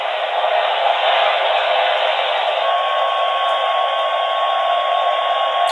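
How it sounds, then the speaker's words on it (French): A hair dryer plays through a small baby-monitor camera speaker, giving a steady, loud, band-limited whoosh that holds unchanged for several seconds with no talking. "Et pour ceux qui ont des cheveux, c'est le sèche-cheveux."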